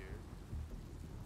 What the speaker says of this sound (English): The storm has arrived.